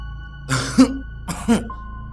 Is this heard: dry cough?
yes